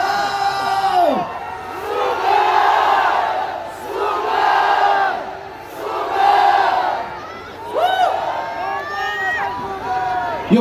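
A large crowd at an outdoor rally in Liwasang Bonifacio, Manila, shouts together in long, loud, rising waves of chanting and cheering, repeated several times.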